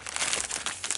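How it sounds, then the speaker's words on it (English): A plastic bag from a cube puzzle shop unboxing crinkles and crackles loudly up close while scissors cut it open, in steady irregular bursts of rustling. "We're sort of trying to cut through the plastic bag"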